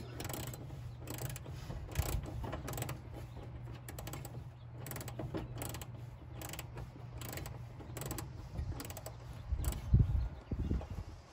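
Ratchet clicking in bursts as it works a heavily rusted nut off a bolt while removing a padded dashboard from a 1970 Volkswagen Beetle, close and moderately loud over a low steady hum, with a sharper clunk near the end.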